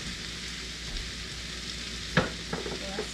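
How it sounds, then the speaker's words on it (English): Fresh mushrooms frying in leftover fat and butter in a skillet while meatloaf is being made, a steady close crackling sizzle with a few clattering stirring knocks near the end. "I am throwing it right in with the fat that's in there"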